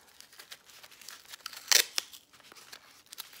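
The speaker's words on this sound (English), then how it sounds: "we're just going to go around our tin foil and we're going to wrap" Tin foil being wrapped around a homemade carrot: quiet crinkling and rustling crackles throughout, with one louder, sharper crinkle near the middle standing out above the soft handling noise.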